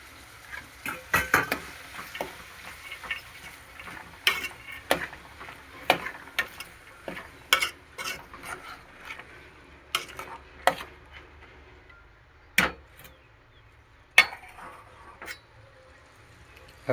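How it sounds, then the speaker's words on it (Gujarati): A spoon stirs soaked chana dal into a bottle gourd curry in a pot, making irregular scrapes and sharp clinks against the metal over a low simmering hiss. "આપણે એને પણ મિક્સ કરી લેવાની."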